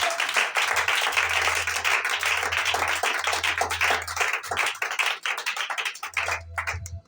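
A church congregation claps in quick, steady rhythm throughout, with sharp dense hand strikes over a pulsing low bass tone that drops out briefly near the end.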